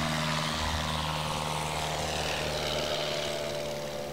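A light experimental STOL aircraft takes off during a short takeoff and landing demonstration at Sun 'n Fun, its propeller engine droning steadily and loudly throughout, fading slightly toward the end.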